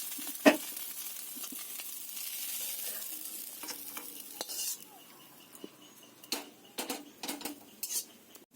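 Chow mein being stir-fried in a wok, with soft continuous sizzling and intermittent scraping and clinking of a utensil against the pan, quiet and close, with no voices.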